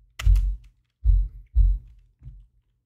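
Several dull, close keystrokes on a computer keyboard, four separate soft thumps spaced irregularly over a couple of seconds with quiet gaps between them.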